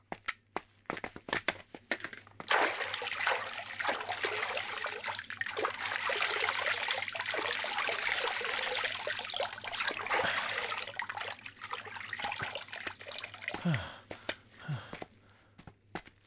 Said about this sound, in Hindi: पानी की धारा यहाँ कहीं भी हो सकती है।